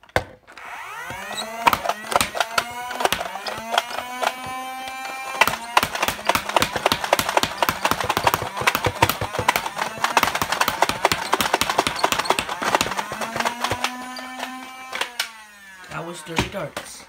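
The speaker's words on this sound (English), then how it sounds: "That's the Nerf stryfe with the suppressor on. I will use an extended infinite drum to do 30 dart" A Nerf Stryfe blaster fitted with a suppressor fires rapidly from an extended drum, a long run of sharp clicking shots with rising and falling motor whine, loud and close.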